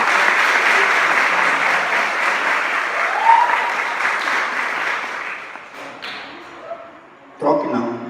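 A church congregation at an Assembleia de Deus service applauds loudly and steadily, fading near the end as a few thumps and a voice break through.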